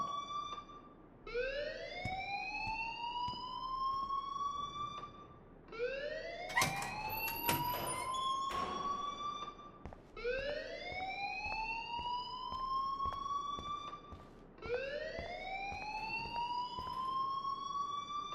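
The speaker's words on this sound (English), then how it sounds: "please turn off that alarm since that's your job" An alarm rings in the video game Life Is Strange, a loud rising electronic wail repeating four times in a steady cycle, each sweep climbing then holding, with no talking over it.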